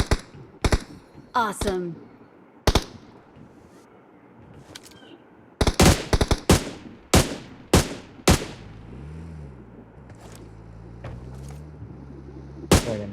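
Gunfire in a video game, scattered sharp shots and short bursts ringing out loud and close, with pauses between and a wavering engine-like drone later, while players talk over it.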